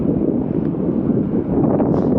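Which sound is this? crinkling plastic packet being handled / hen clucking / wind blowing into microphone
wind blowing into microphone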